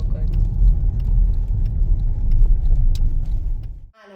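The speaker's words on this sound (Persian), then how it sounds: "این صدایی که میشنوین از گیربکسه" A loud, steady mechanical drone from a car's gearbox, low and strained, running continuously before cutting off abruptly near the end.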